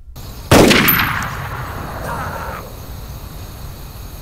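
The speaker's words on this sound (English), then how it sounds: "those don't seem to be too shook up about that loud report of the rifle" A single loud rifle report booms out in the DayZ video game, close and sharp. A long echoing tail rolls off behind it into quiet ambient noise.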